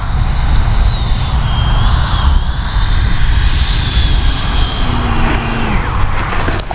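A 90mm Freewing Eurofighter Typhoon RC jet flies overhead with a loud, steady ducted-fan whine and roar that shifts in pitch as it passes.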